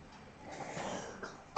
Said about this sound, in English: Sorry, excuse my cough.